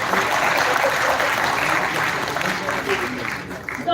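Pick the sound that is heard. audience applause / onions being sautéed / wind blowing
audience applause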